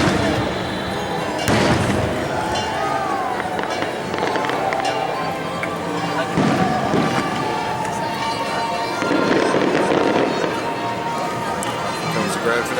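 Disneyland fireworks heard from outside the park gates keep up a dense, distant rumble with scattered bangs and crackles, blended with crowd noise throughout.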